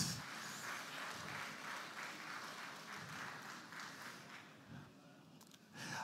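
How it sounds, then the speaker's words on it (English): Audience applause at a civil service public lecture, a steady, soft patter of many hands heard from a distance, holding level before easing slightly near the end, with a couple of louder claps at the close. "Can I ask for another round of applause for everyone,"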